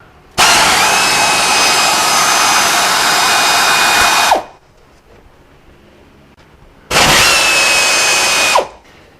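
A power tool runs while removing bolts on a 1994 Nissan Pathfinder during ball joint and tie rod work, two loud sustained whirring bursts of about four and two seconds with a pause between.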